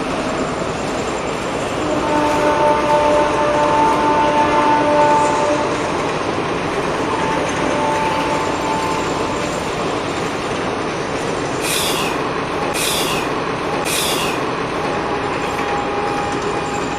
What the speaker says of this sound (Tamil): ட்ரெயின் போகுது